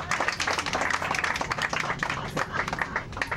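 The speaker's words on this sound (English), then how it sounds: "Big round of applause for Mr." A tour group on a coach bursts into dense, continuous applause for their coach driver, many hands clapping at once at close range and steady loudness throughout.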